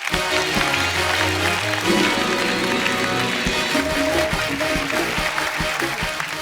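Studio audience at a comedy talk show applauding to welcome guests, dense continuous clapping at moderate loudness with music and voices mixed underneath.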